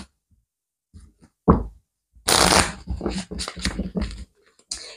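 Small tarot cards shuffled by hand, with a few soft taps and then bursts of riffling, flicking card noise in quick irregular clusters, close and fairly loud with no talk.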